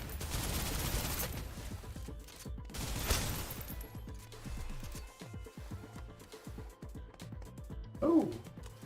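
Turret gunfire in a video game, bursts of rapid shots early on, then quieter repeated firing, with a brief voice near the end.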